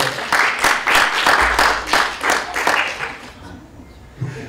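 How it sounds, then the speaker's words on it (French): Applause from the audience at an evening talk on tourism and heritage, brisk clapping that begins loud and close, then thins and fades out by the end. "vous pouvez applaudir mes amis si vous souhaitez"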